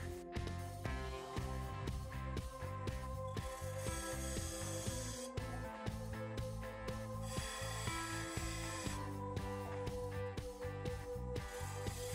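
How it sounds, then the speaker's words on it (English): Wood being turned on a lathe with a skew chisel and parting tool, a steady humming motor under rhythmic scraping and cutting as the tool meets the spinning segmented wood, continuous and close with no talk. "I'm going to use my skew chisel to define these two edges, and then my parting tool to remove the bulk of that wood"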